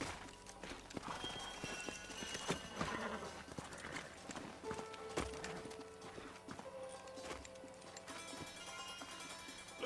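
Horse hooves clip-clop steadily across a Red Dead Redemption game scene, with occasional neighs and whinnies rising over a busy, layered background of game sound and music.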